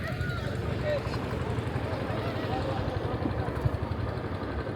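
A motorboat engine on a river at a village crossing in the Pabna–Natore area throbs steadily at close range, a low rumbling drone with faint voices in the background.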